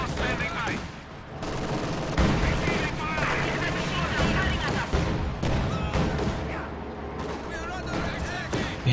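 Gunfire from an MG42 machine gun in Company of Heroes 2, a World War II strategy game, rattles through a dense, loud battle mix with other shots and explosions around it.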